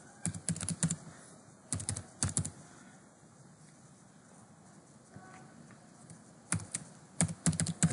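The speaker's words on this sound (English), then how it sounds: "just type the password" Keystrokes on a computer keyboard as a password is entered, clustered in quick bursts near the start, middle and end, with quiet pauses between them and no talking.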